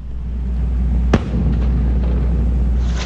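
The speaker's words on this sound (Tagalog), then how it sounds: "Sunod na maririnig ang putok naman ng 105mm howitzer ng Philippine Marines." A single sharp, heavy blast from a Philippine Marines 105mm howitzer firing toward a sea target cracks out once over a constant low rumble, followed by a faint echoing tail.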